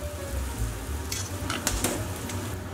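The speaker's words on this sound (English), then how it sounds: "Just give our skewers a little toss around in there" Thai lime chicken skewers sizzle in a hot pan with their sauce, a steady close fry broken by several sharp clatters and scrapes as they are tossed around.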